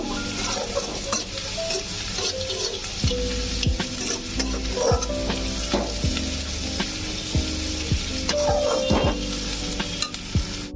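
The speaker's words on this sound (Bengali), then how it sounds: "পেঁয়াজটা বেশ সুন্দর ভাজা ভাজা হয়ে গেছে, আর বেশি ভাজবো না" Onions fry with salt in a pan, sizzling steadily as a utensil stirs them in repeated scraping strokes, close and fairly loud with no talk.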